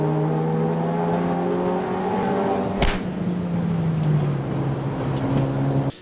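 Race cars pull away at the start of an enduro at Anglesey in a loud, sustained engine roar whose pitch slides as they accelerate, with a brief sharp burst partway through and a sudden cutoff at the end.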